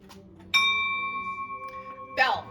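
A single bright bell strike rings out in a barn with clear sustained tones that slowly decay, followed by a second strike near the end, over faint background murmur.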